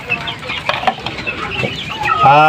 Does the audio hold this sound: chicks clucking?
yes